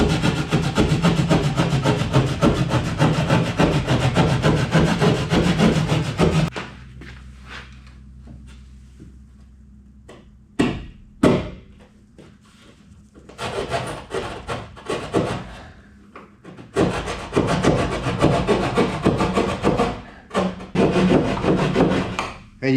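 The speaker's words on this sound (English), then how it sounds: "if you put your saw in there, you can follow right down the stud like that" A hand saw cuts through drywall along a stud in a barndominium room, giving close, loud rasping strokes in bursts separated by pauses, with no talking.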